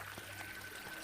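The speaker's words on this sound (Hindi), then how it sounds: "पीछे से नदी में पानी उछलने की आवाजें आ रही थी," Water splashing in a river, heard as a faint, steady wash of pouring and trickling water with no voices.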